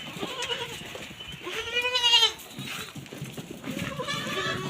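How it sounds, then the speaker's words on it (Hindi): Baby goats bleat on a farm as they are let loose, several close, wavering cries one after another, with someone talking over and between them. "अब हम जाते हैं और बकरी के बच्चों को छोड़ते हैं"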